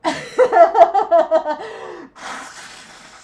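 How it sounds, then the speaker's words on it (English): A few short voiced snorts and sniffles, then a long, noisy nose blow close up. "I gotta blow my nose."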